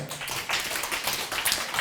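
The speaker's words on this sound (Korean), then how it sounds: "박수 한번 줄까요?" A youth audience at a history lecture gives a short burst of brisk, close applause, with dense overlapping claps and almost no talking.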